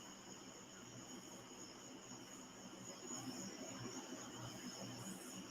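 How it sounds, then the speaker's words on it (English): Steady high-pitched insect chirring, like crickets, fills the background continuously at low level, with a faint low rumble underneath and no talking. "You hear the crickets?"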